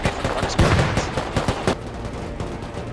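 Rapid bursts of gunfire in the game Rust crackle in quick succession during a raid, loud and close, then thin out into scattered shots fading toward the end.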